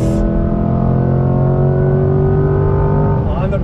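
A 2020 Chevrolet C8 Corvette Z51 accelerates hard on throttle, its engine note holding a loud, steady drone with strong rising harmonics across the run before the tone breaks and shifts at the very end.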